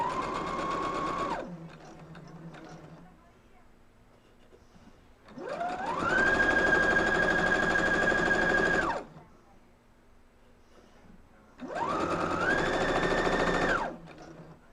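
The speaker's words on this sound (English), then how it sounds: "Just keep sewing and sewing." A sewing machine stitches quilt blocks in three bursts, two long and one shorter, each a steady, close, loud mechanical whir with quiet pauses between.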